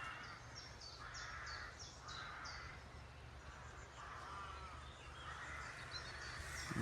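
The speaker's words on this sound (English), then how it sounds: "Listening to all the crows going off on one." Crows caw repeatedly in the British countryside, a series of harsh calls in bursts at moderate distance over a faint steady outdoor background, with no talking.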